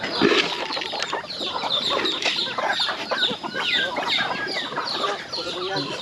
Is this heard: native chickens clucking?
yes